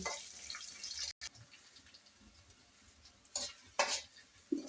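Onions sizzle and crackle in a pan for a katla fish curry, stirred with scraping clatters and bursts of louder sizzling toward the end, close by with no talk.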